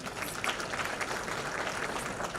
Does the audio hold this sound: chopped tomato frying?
no